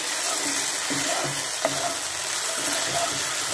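Soy sauce and chili sauce stirred together in a pan while cooking chicken, giving a steady soft sizzle with a few light scraping stirs and small clinks, close and fairly quiet, no talking.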